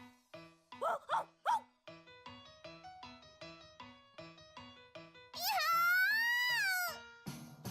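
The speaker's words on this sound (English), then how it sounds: "So whose dog is this?" A dog barks in the video game A Sky Full of Stars, a series of short rhythmic yaps followed by a long drawn-out whining howl, close and clear with no talking over it.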